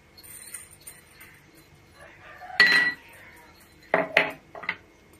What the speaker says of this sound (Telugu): ఇప్పుడు మన కాకరకాయ ముక్కలు వేపుకున్న బాండీలోనే పచ్చెనగపప్పు అవి వేసి వేపుదాం.